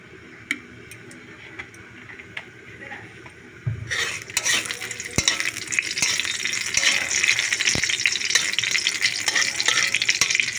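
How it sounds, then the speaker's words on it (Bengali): Spices and vegetables hit hot oil in a dry pan, quiet ticks and taps at first, then a sudden rush of steady sizzling and crackling with occasional utensil clicks for several seconds. "এগুলো আমি ভেজে নেব কিছুক্ষণ"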